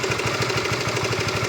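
Idling RS150 motorcycle engine with a suspected worn cam chain tensioner at 86,000 km, a close, loud, steady rhythmic chugging with a fast even pulse and a faint ticking rattle throughout.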